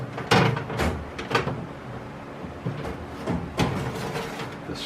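A converted bill validator cage assembly with a Mars validator slides back into place inside a Rowe changer machine, giving a series of metallic clunks and scraping knocks close by with a steady rattle between them.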